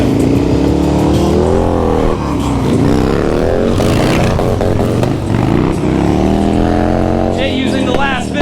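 A street bike motorcycle revs loudly at a busy event, its engine pitch sweeping up and down continuously beneath a voice talking over it and crowd noise.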